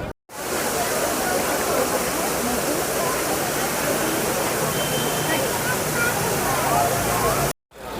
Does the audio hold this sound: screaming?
no